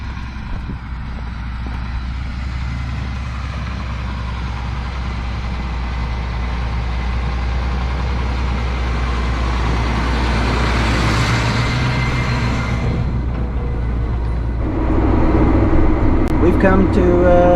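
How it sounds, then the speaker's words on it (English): A tractor engine runs steadily at close range, a constant low rumble that swells slightly and grows louder near the end, with talk heard over it. "That's probably the first time he's ever taken the tractor completely by himself."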